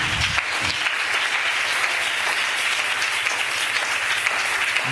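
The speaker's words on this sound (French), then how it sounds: "Est-ce qu'on peut acclamer très fort le Seigneur Jésus?" A church congregation applauds and cheers loudly in praise of the Lord Jesus, a dense, steady wash of many hands clapping that fills the room for several seconds without pause.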